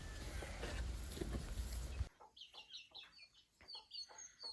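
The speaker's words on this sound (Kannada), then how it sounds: "ಇವೇ ನೋಡಿ ಕೋಳಿಗಳು, ಇವನ್ನ ಹೊರಗಡೆ ಬಿಟ್ಟಿಲ್ಲ" After a burst of loud rumbling noise, several hens kept inside a shed cluck and murmur in short, repeated calls, close by and moderately loud.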